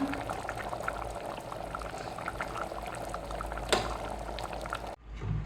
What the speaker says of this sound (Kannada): ಒಂದು 5 ನಿಮಿಷ ಚೆನ್ನಾಗಿ ಕುದಿ ಬರಬೇಕದು. ಚೆನ್ನಾಗಿ ಕುದಿ ಬಂದಿದೆ.